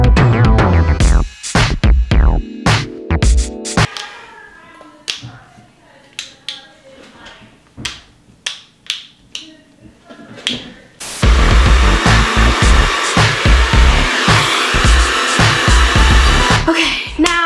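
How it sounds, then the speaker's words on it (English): A handheld hair dryer blows on hair after a swim in a saltwater pool, a loud steady broadband roar that switches on partway through and runs continuously after earlier snaps and quieter handling sounds. "and then blow dry it."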